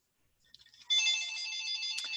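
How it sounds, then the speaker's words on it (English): A mobile phone rings loudly and steadily, a bright electronic tone that starts after a few soft clicks and keeps going without a break, with no talk over it. "let me very quickly turn off that incredibly annoying phone"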